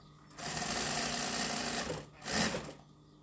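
A home sewing machine stitches late at night in two loud bursts, a long run followed by a brief pause and a shorter second run, close and steady with no voices.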